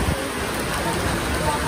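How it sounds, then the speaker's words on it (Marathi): Wind-driven heavy rain roars steadily around a temple courtyard while a person speaks over the continuous, rushing noise. "केवढा वारा आणि पाऊस सुटलाय"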